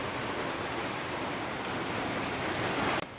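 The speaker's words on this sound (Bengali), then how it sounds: "বিশাল বৃষ্টি, ধরে রাখা যাচ্ছে না একদম।" Heavy rain pours steadily during a hailstorm, a dense, loud, unbroken roar that stays constant throughout with a short knock near the end; no voices.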